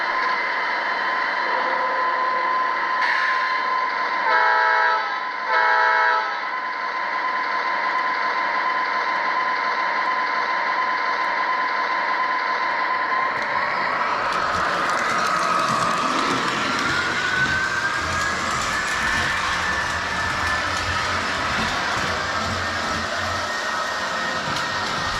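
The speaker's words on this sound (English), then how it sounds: "This here is my BNSF. It's a Proto Sound 2 engine." Lionel BNSF model train locomotive with a Proto Sound 2 sound system, a steady electronic engine hum with short horn-like bursts early on, then a louder rushing, rumbling run as the train gets moving.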